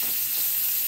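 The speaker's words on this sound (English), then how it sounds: "You like to hear that sizzle." Ham and sausage sizzling in a frying pan, a dense, steady crackling hiss heard close up and loud with no talking.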